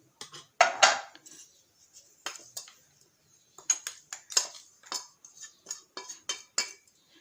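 Ground Thalappakatti-style biryani masala scraped and transferred into a bowl, with a series of sharp clinks and scrapes of a spoon against metal and ceramic, close and irregular, with no voices.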